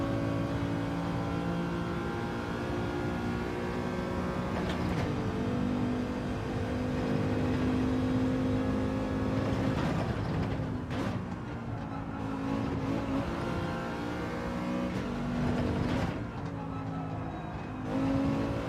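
A Mercedes SLS engine in the racing game Gran Turismo 7 drones steadily at high revs, with pitch shifts from gear changes and other cars whooshing past, heard alone throughout.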